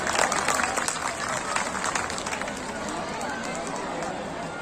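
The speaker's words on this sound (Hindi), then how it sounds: "एक बहुत जोरदार ताली से इनका शुक्रिया अदा कीजिए" Parents at a school event give loud, sustained applause, a thick wash of many hands clapping that starts strongest and gradually tapers, with faint crowd murmur underneath.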